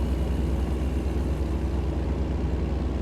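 Steady low diesel truck engine drone from American Truck Simulator, an even rumbling hum at constant cruising pitch with no speech over it.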